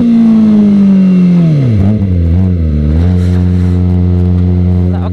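A modified Kawasaki Ninja ZX25R motorcycle engine revs loudly up close, its pitch sliding down then rising and settling into a high steady drone over about five seconds.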